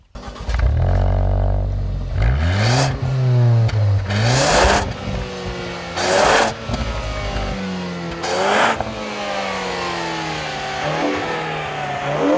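A Ford Focus ST with a manual gearbox revs hard through repeated climbs in pitch, with sharp bursts as it shifts between gears, loud and close, then settles to a steadier drone near the end.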